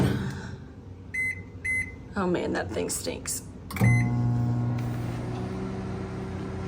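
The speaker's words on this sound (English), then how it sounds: "pop it in the stinky microwave for 1 minute to start." A microwave oven heating a thick paste of baking soda and water: a few short electronic beeps, then a steady low hum under close conversational speech.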